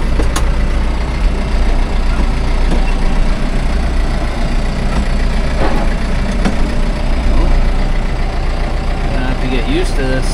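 A tractor's engine idles with a steady low rumble while it is shifted into reverse, close and continuous, with a person talking over it and a few faint clicks.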